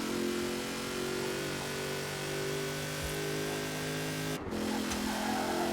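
A GMC Syclone pickup in a racing video game screams at full throttle down a motorway at around 200 mph, a steady loud engine drone with a brief dip as it shifts up a gear.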